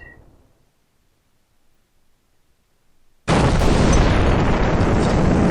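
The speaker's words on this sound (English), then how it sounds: "these guys are rolling in with their glide bombs" Glide bombs exploding in the combat simulation game C:MANO: after near silence, a sudden loud blast erupts and holds as a sustained, roaring wall of explosive noise to the end.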